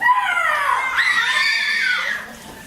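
A loud, high-pitched scream rises and sustains for about two seconds before trailing off, close and alone without talk.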